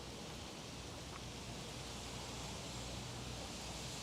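Steady, dense hiss of heavy rain falling in Long Island City, New York, constant and fairly loud throughout with no voices.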